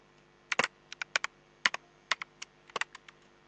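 Keys clack on a computer keyboard while HTML code is written, in short irregular bursts of crisp, fairly close taps with brief pauses between them and no talk.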